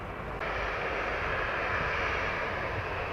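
A United airliner touches down on runway 07 at Montego Bay, Jamaica, its engines a loud, steady broadband roar that holds evenly throughout with no voices over it.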